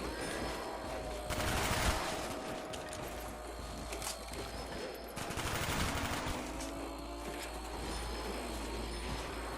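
Rapid gunfire crackles in Call of Duty Zombies on the Kino der Toten map, steady bursts with a couple of louder volleys, fairly quiet and alone.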